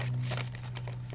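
Plastic bags being handled to cover a craft project give quiet, scattered crinkles and rustles, a few sharper crackles toward the end, over a low steady hum; no talking.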